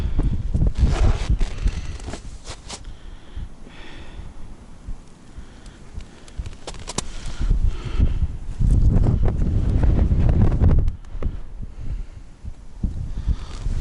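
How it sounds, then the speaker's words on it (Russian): Strong wind batters the microphone in heavy, rumbling gusts that rise and fall while ice fishing for perch, with scattered rustling and knocks, no speech. "ветер аж сносит"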